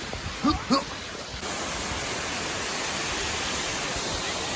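A steady broadband roar of a waterfall fills the scene. It starts after a couple of brief voice sounds and then continues loud and unbroken to the end.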